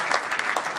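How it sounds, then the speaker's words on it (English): Dense, even audience applause at a Chabad town hall meeting, a brief continuous burst of many hands clapping together filling the room. "an applause is not going to do it, ladies and gentlemen."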